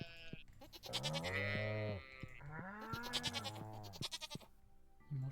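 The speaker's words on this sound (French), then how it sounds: "Non, ils sont trop chauds les moutons." Sheep in the farming game Stardew Valley bleat in a few long, wavering calls, clear and fairly near, with short pauses between them.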